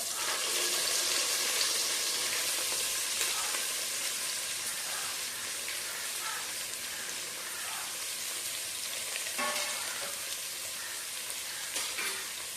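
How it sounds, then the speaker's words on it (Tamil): Sliced onions sautéing in oil with whole spices for a king fish biryani, a dense continuous sizzle close up, with occasional stirring scrapes and no talk. "இப்போது நாலு வெங்காயம் இந்த மாதிரி கட் பண்ணி வச்சுருக்கேன் இது இதில் போட்டுக்கலாம்"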